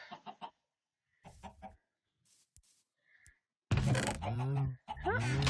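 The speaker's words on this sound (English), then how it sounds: "We'll go check on the chickens." Blocky chickens in the MeaoCraft Skyblock game give short clucks in scattered bursts, then a louder stretch of clucking toward the end, with pauses between calls.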